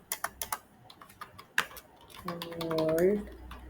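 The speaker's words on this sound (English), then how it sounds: "Then I'm just gonna type another print hello world." A few quick computer keyboard keystrokes click close up in short bursts, followed by a brief voice murmuring.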